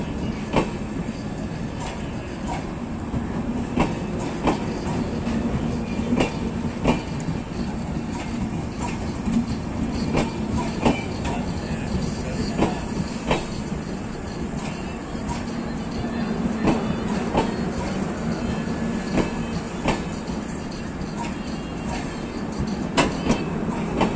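Mau–Anand Vihar Express passenger train running, with a steady low rumble and periodic clicks of wheels over rail joints throughout, heard close from on board or beside the coaches.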